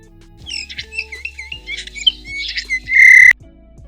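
A bullfinch gives a run of short, chirping calls, close and fairly loud, ending in a brief sustained whistle-like tone.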